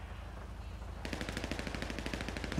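Automatic gunfire in GTA 5 role-play: a low ambient bed for the first second, then a quick regular burst of shots starts abruptly and keeps a steady rapid rhythm until the end.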